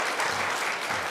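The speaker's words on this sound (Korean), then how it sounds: "큰 박수로 우리 환영해 주시기 바랍니다" A church congregation applauds in welcome of a new youth pastor, a brief burst of steady, dense clapping from many hands.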